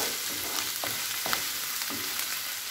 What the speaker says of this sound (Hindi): 1 मिनट तक इन्हें फ्राई करेंगे अदरक लहसुन को।